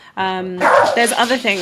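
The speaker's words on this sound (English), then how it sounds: "That's my dog because someone just knocked on my front door." A pet dog barks at a knock on the front door, giving a couple of harmonic yips and barks close by, mixed in with a person talking over them.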